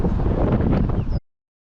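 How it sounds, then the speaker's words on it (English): Strong outdoor wind buffets the microphone in a steady, rushing roar that cuts off abruptly. "again it's really windy, right?"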